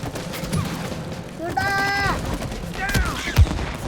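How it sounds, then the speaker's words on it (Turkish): Gunfire in the co-op video game It Takes Two: a couple of brief, sharp shots near the end, preceded by whooshing, warbling game effects over a steady ambient bed. "silah patlattım"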